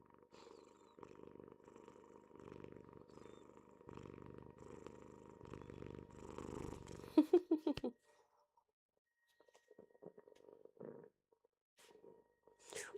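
A cat purrs in a steady, soft, low rumble for several seconds, then gives a brief run of rhythmic pulses before near silence with faint scattered sounds.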